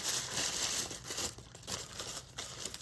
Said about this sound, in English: And then I'm gonna crumple this. This is always fun, right? I'm gonna crumple this all up.